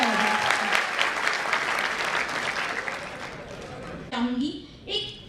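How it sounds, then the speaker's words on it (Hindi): Loud applause from a seminar audience of exam aspirants rolls on steadily for about four seconds, then a voice speaks briefly over the fading claps. "तो एक बार जोरदार तालियां"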